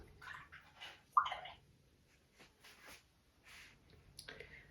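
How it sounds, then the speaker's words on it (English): Faint swishes and dribbles as a paintbrush is rinsed in a water container during an acrylic seascape painting, a few short wet bursts close by in a quiet room. "Rinse my brush out."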